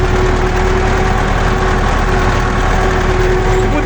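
Broken-down tractor engine idling with a steady low rumble and a persistent knocking, loud and close, running continuously with a constant drone throughout.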